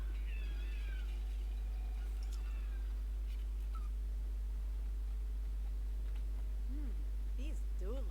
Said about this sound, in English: Leave the kitty alone!